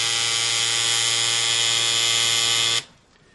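A tattoo machine buzzes steadily and loudly at close range, a dense electric whine with a low hum underneath, then cuts off abruptly near the end, leaving quiet room noise.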